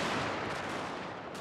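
Massed gunfire from a multiplayer battle in Shogun 2: Fall of the Samurai, a dense, continuous crackle of rifle volleys that holds steady and loud across the whole moment with no pauses.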